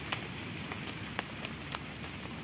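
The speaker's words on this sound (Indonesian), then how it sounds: "Pagi ini diawali dengan gerimis, sehingga suasana menjadi syahdu." Light morning drizzle falls at Bandealit beach, a soft, even patter with scattered sharper drops, heard without any talk.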